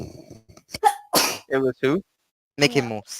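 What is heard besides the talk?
someone sneezing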